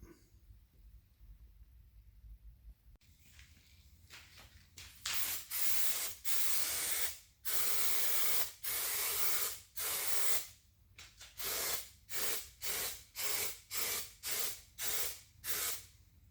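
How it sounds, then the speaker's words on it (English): Spray can applying primer to the underside of a repaired 1972 GMC truck floor, close hissing bursts, a few long ones followed by a quick run of short, evenly spaced puffs, with no talk. "Quick coat of primer just to protect the underside."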